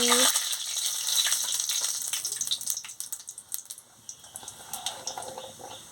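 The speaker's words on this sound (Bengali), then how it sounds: "এবার তেল গরম হয়ে গেছে পাঁচ ফোড়ন আর শুকনো লঙ্কাটা দিয়ে দিচ্ছি দিয়ে ভালো করে নাড়িয়ে নিচ্ছি" Panch phoron and dried red chilli fry in hot oil while being stirred, with steady crackling sizzle and some rattling, close and moderately loud, no talking.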